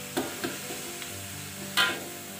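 Shrimp paste (belacan) sizzles steadily in hot oil in a pan while being stirred, with a few soft scraping knocks of the spatula over the constant frying hiss.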